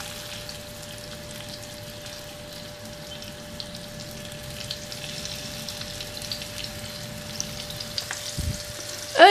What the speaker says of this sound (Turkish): Tavama 4 yemek kaşığı ayçiçek yağı ilave ettim ve kızdırdım. Şimdi patlıcanlarımı şöyle güzelce diziyorum.